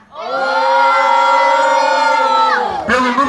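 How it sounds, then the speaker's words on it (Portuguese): A crowd at a rap battle semifinal at Roda Cultural dos Prazeres shouts and cheers loudly for a rapper in one sustained, rising roar that drops off briefly near the end. "Pelo número de pessoas gritando"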